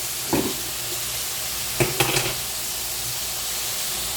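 A fish curry with cauliflower and pointed gourd sizzles steadily while it is sautéed in a pan, a constant hiss broken by a few brief knocks of a stirring spoon.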